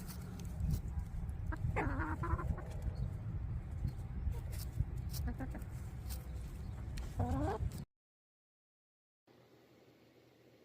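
A backyard chicken hurries down a wooden deck, clucking close by. Her quick steps and calls sit over steady outdoor background noise, and the sound then cuts out briefly before a quieter stretch.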